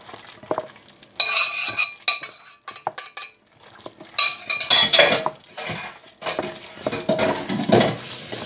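Utensil stirs a pan of spring onions and coriander, metal scraping and clinking against the pan in irregular bursts with light sizzling between, close and fairly loud.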